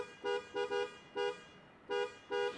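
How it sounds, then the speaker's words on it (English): A 2023 Toyota Highlander XSE car horn sounds in six short, bright blasts, some in quick pairs and some spaced apart, close and clear with no talking. "Let's do the horn right now."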